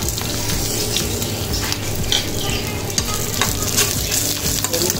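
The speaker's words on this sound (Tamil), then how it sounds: "நல்லா பொரிஞ்சு வர வரைக்கும் நல்லா வதக்கி விட்டுருங்க." Chopped onion sautés in hot oil in a pan, giving a loud, continuous sizzle with frequent spatula stirring and scraping throughout.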